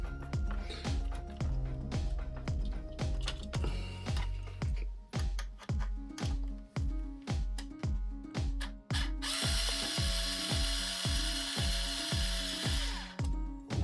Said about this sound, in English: So fit that into this drill, forward and reverse, and it's got a wee light on it as well.